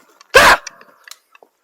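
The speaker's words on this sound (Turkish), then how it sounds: "köpekler var." A single loud, close dog bark sounds once, followed by a few faint scattered noises and quiet.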